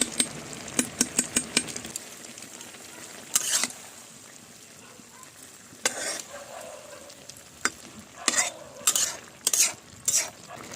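Mustard and cumin paste being added to a simmering curry of roe-laden tangra fish, pumpkin-leaf stalks, brinjal and potato, with repeated scraping stirs and clinks over a soft bubbling background, close and fairly quiet.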